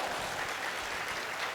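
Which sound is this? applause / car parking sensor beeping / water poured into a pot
applause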